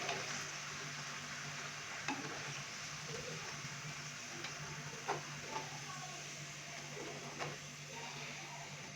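Macaroni pakoras frying in oil over a medium flame give off a soft, even, hissing sizzle, fairly quiet, with a few faint clicks scattered through it.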